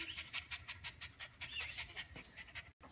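A happy dog named Cookie pants rapidly and steadily up close after a walk, a quick run of airy rhythmic breaths with a brief pause near the end.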